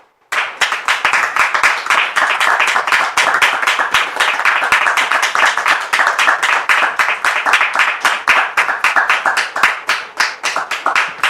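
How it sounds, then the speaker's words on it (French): An audience of a church gathering breaks into sustained, dense applause that starts abruptly and continues loud and even throughout, many hands clapping close by without speech. "je vous demande ici maintenant de recevoir le pasteur Donald sous vos applaudissements"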